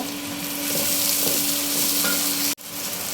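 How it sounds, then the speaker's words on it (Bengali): Tomatoes sizzle in a pan together with onion, green chili and garlic: a loud, steady frying crackle with stirring, broken by a brief cut near the end. "টমেটো একসাথে দিয়ে দিচ্ছি। এটা ভাজা ভাজা করব।"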